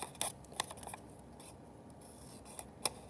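Scissors snip a small part out of a paper model of a Gothic building: a few quiet, close, crisp cuts with soft paper rustling between them in a still room.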